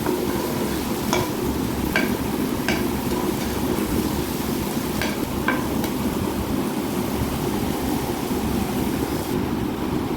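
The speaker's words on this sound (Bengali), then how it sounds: "পেঁয়াজ, টমেটো, তারপরে তেলের মধ্যে ফোড়ন দিয়েছি, পাঁচফোড়ন" Onion, tomato and panch phoron spices fry in oil for ghugni, a steady close sizzle with a few sharp clicks and taps of stirring scattered through it. No one speaks.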